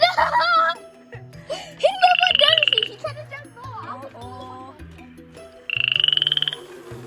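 A frog lets out loud, buzzing croaks in two long bursts, with a voice talking and squealing between them.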